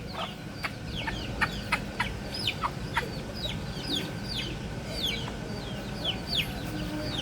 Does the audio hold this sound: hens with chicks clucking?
yes